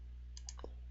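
A single soft mouse click sounds once in an otherwise quiet stretch, faint over a steady low hum.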